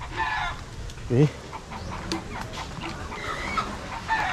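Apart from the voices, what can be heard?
pullet chickens clucking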